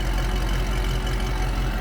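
A 2010 Chevrolet Camaro 2SS V8 with a Corsa exhaust idling close by, giving a steady, loud, deep rumble with an even low pulse and no talking.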